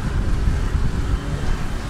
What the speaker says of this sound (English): Just a bit windy.